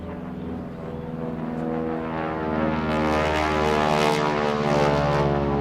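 A propeller airplane droning overhead during an outdoor Memorial Day gathering, its steady engine hum swelling louder as it passes, with no talking.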